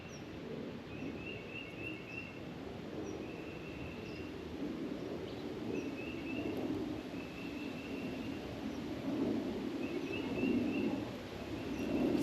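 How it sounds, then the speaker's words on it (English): Birds call outdoors in a still setting, a few thin, high chirps and short trills repeating now and then at a distance over a soft steady wind and low rumble. "The stillness, the birds."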